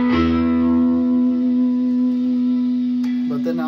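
An electric guitar plays with its rhythm pickup volume turned low, one sustained note ringing steadily with effects and reverb before a short scratchy pluck near the end.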